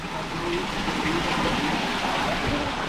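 Waterfall splashing inside an iguana enclosure, a dense steady wash of falling water heard close and continuous throughout.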